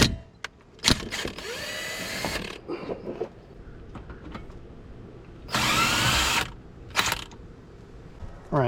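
A ratchet with a 19 mm socket working on brake caliper slide pins during a wheel bearing, pad and rotor job, with quick ratcheting bursts, rapid clicking runs and metallic knocks close by.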